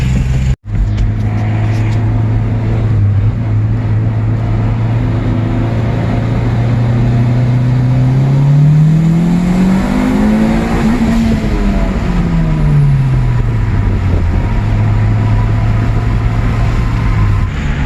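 A straight-piped Chevrolet Impala SS gives a loud, deep exhaust drone, then accelerates hard through a long rising pull. The pitch climbs, dips after a shift and climbs again, heard up close with no talk.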